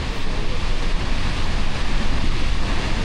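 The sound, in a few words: large waterfall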